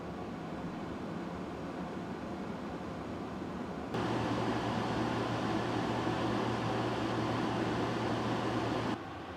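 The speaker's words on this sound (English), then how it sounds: "here's a short comparison of models running at top speed to see if you can hear the difference" Air purifiers, including an Alen BreatheSmart 45i, running at top speed, a steady broadband whoosh of airflow with a low hum, switching partway through to a louder unit and then back, constant and with no talking.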